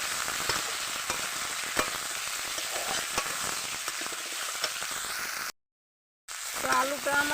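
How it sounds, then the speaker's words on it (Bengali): Spices and bata fish frying in a pan, a steady crackling sizzle with light stirring clicks, broken by a brief silent gap before the sizzle resumes with a faint tonal sound. "মশলার সঙ্গে খুব সুন্দর ভাজা ভাজা হয়ে গেছে"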